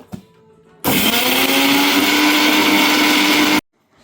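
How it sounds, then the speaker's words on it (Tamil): Mixer grinder blending roasted coconut, onion and fennel seeds, an abrupt loud whirring roar that runs steadily for about three seconds and cuts off sharply, close by. "தேங்காய் இந்த வெங்காயம் போட்டு வறுத்து வச்சு இப்போ அரைக்க போகிறோம்"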